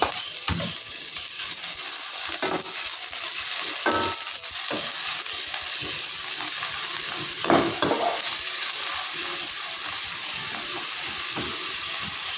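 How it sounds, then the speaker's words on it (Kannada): Onions fry in a pan with a steady, close hiss, broken by recurring scrapes and clacks from stirring, for a fish curry; no one speaks. "ಈರುಳ್ಳಿ ಚೆನ್ನಾಗಿ ಫ್ರೈ ಆಗಲಿ"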